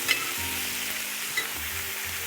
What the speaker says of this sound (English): You see it's kind of sizzling.